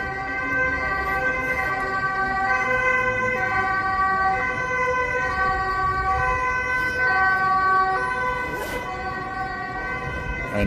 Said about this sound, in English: And that's a police car.